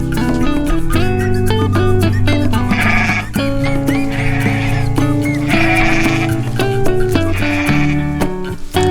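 Goats bleating nearby while grazing on green grass during milking: loud, repeated wavering bleats, one after another, throughout.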